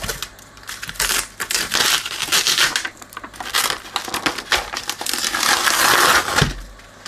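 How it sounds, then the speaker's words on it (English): A label is peeled off the plastic lid of a Tom Evans Mastergroove SR mkIII preamp, making loud close crackling, crinkling and tearing in uneven bursts that build toward a long rip near the end. "Start by peeling this off."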